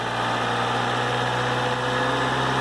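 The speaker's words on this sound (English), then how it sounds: "So we're changing the frequency by how fast the engine goes." A car engine runs loud and close with a steady, humming drone and strong low tones, holding an even pitch rather than clearly rising, with no talking.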